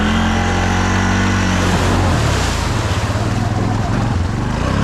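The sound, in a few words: Honda Fourtrax 6x6 ATV driving through mud in second gear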